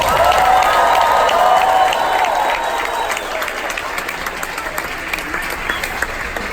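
Guests in a cruise ship dining room on a Royal Caribbean Bahamas cruise burst into loud, dense applause mixed with some cheering, then ease off slightly and keep clapping steadily throughout.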